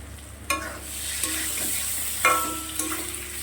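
Spice masala and potatoes frying in a pan, a steady sizzle broken by several sharp clanks and scrapes of stirring, close and clear.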